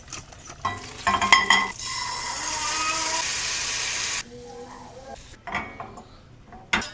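A banana pancake with dates, made with unsalted butter and baking powder, sizzles steadily in a pan for several seconds, with utensil clinks before and after and no talking.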